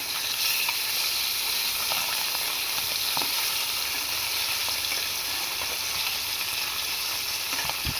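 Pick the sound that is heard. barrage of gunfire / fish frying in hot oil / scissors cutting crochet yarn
fish frying in hot oil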